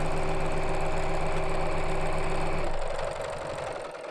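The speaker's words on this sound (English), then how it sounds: "we're going to sew around the outside of the box with a short stitch" A sewing machine runs a short stitch around a square, its needle hammering in a fast, steady, loud rhythm close by, then slowing and quieting near the end.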